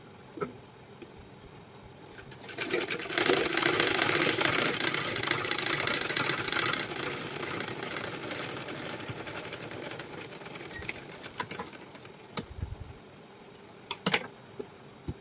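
Sewing machine running a double row of stitches along the centre of a lining blouse, a steady mid-level whir lasting several seconds before fading, with faint handling clicks and knocks around it.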